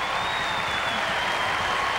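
A curling crowd at the 2001 Canadian Curling Trials semi-final between Anderson and C. Jones applauds, a dense, steady burst of clapping that fills the whole moment at close range.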